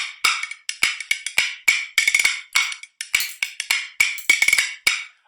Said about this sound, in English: drag the spoons across my outstretched fingers, letting them walk down those fingers as though they were steps